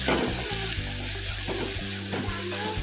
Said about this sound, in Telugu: ఇవి కొంచెం నూనెలో మగ్గాలి పోతే బాగుంటాయి